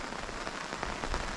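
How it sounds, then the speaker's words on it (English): Rain drums steadily on a camp awning on a hillside, a dense, even patter that stays fairly close throughout with no voices. "It was raining just as I came up the hill, and it started getting quite slippery"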